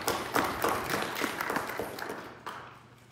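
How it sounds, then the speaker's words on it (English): Applause for birthdays and anniversaries fills a church worship service, a fairly loud, dense clapping from the congregation that starts strong and thins gradually over about three seconds. "So let's give them a round of applause."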